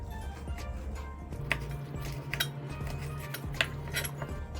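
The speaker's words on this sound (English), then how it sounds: "After removing the seed, chop pepper finely." A knife taps against a cutting board while a seeded pepper is chopped finely, giving light irregular clicks and small clinks, close but fairly quiet over a low steady hum.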